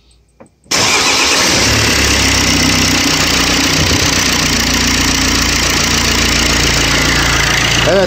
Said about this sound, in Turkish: Şimdi aracı tekrar çalıştırıyorum arkadaşlar